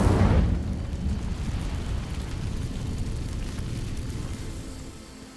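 A fire spell bursts into flame against dry vines, opening with a loud whooshing ignition that settles into a steady, fading roar of burning.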